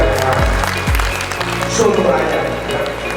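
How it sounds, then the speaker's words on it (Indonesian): Audience applause for rural banks (BPR) at a 2023 Perbarindo Solo Raya talk show and music event, a steady burst of clapping mixed with background music and a deep thumping beat, fairly loud throughout. "Tepuk tangan untuk BPR."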